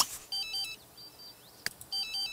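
Electronic telephone ringtone from The Sims 3, two short warbling trilled bursts separated by a brief gap with a click between them, clean and close with no voices over it.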